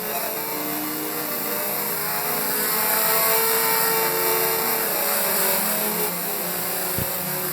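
Race cars roar around Midvale Speedway, a continuous loud engine drone that swells slightly mid-pass and holds steady, with a brief thump near the end.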